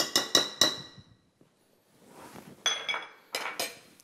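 Pasta being mixed with cheese in a metal pot, with several sharp clinks and scrapes of a utensil coming in short bursts with quiet pauses between.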